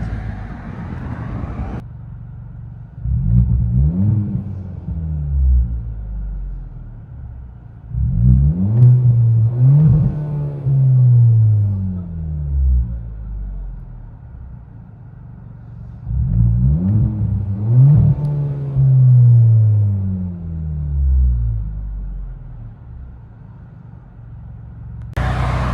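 A 2023 Kia Forte GT with a muffler delete is heard from inside the cabin, its exhaust droning deep and loud through three rising revs and accelerations with gear changes, easing back between pulls.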